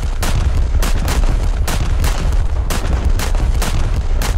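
Battleship guns fire armor-piercing shells in War Thunder on an Italian premium dreadnought, a rapid series of heavy booming shots at irregular intervals, loud and close.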